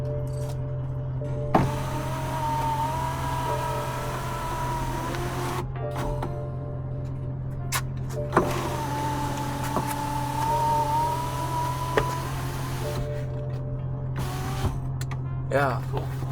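A BMW 328i E90 power window motor whirs steadily as it lowers the window and raises it again after a regulator swap. The whine carries on for several seconds at a time, broken by short pauses and clicks, with faint talk nearby.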